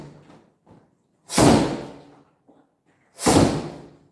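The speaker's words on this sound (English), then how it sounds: "I'm hitting hard enough to make it sound like gunshots" Two hard martial arts strikes land with sharp, heavy cracks like gunshots, loud and close, about two seconds apart, with faint shuffling and soft sounds in between.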